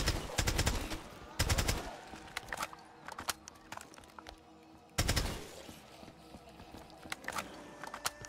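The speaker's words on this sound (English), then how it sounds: "see how good the AK is" An AK rifle fires in a Call of Duty zombies video game, sharp cracking shots arriving in quick bursts and single reports, loud and close, with no talk.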